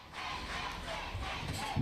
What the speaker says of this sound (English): you can hear that crowd from Mexico